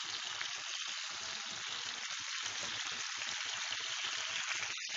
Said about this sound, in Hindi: घी मेल्ट हो चुका है, बॉईल किया हुआ भेजा इसमें डाल दें और इसे फ्राई कर लें हाई फ्लेम पे